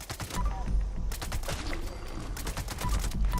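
Rapid gunfire in the video game Fallout 76, a dense stream of sharp shots in bursts, loud and close, with a brief lull in the middle before firing resumes.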